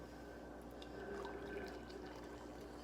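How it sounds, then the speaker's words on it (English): Hot water poured into a mug for tea, a faint, steady trickling and filling sound lasting a few seconds against a quiet indoor background, with no talking. "So I'm gonna pour my hot water"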